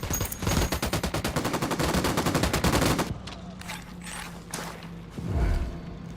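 Gunfire in Ghost Recon Wildlands rattles in a rapid, loud automatic burst of evenly spaced shots for about three seconds, then scattered shots, engine drone and a low rumble follow, with no talk.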